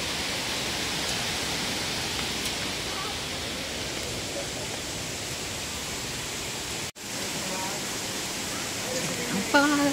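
A waterfall roars steadily beside a trail down to Haray Falls in Catanduanes, a dense, even wash of water noise with one brief dropout midway.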